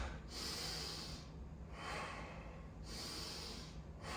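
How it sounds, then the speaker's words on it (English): Deep breaths during a home kettlebell and ring workout: three loud, close exhalations and inhalations in a slow rhythm, alone without talk. "Deep breath."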